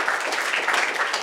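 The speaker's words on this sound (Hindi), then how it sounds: "जोरदार तालियां इनके लिए" An audience gathered at a Buddhist vihara in Rajnandgaon applauds, a brief, dense burst of many hands clapping steadily and loudly.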